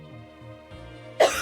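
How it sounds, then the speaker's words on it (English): A single sharp cough bursts out near the mic after a stretch of quiet, low background hum. "I'm going to cough."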